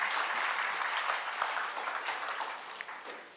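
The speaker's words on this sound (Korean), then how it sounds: "한번 감사의 박수 한번 드리겠습니다." A church congregation at a prayer-house revival meeting breaks into sustained, dense applause, steady at first and gradually fading slightly toward the end.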